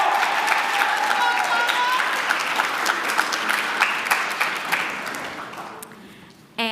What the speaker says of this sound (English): everyone please give her another round of applause for now